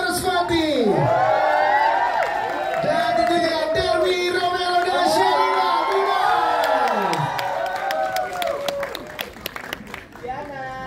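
At a film press conference, an audience claps and cheers with whoops and shouts, loud and sustained, while a presenter speaks excitedly over the noise.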